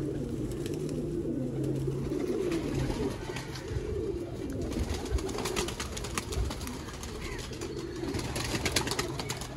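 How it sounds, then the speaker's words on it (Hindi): Sialkoti pigeons at a loft in Haripur, Hazara, coo continuously in low, rolling murmurs under a dense, noisy outdoor background, with no talk. "KPK में सियालकोटी कबूतर, और वो भी ऐसे ऐसे नायाब कबूतर"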